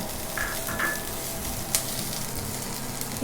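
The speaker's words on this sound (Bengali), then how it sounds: "দিয়ে দিব পেঁয়াজ কুচি, মরিচ কুচি দিয়ে হালকা ভেজে নিব" Chopped onion and chili frying lightly in two tablespoons of oil, giving a steady close sizzle with a couple of faint utensil taps and no voices.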